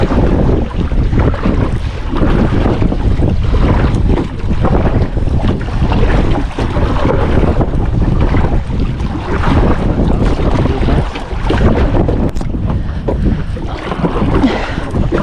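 Strong wind roars and buffets the microphone without a break, loud and rough throughout, with no voices.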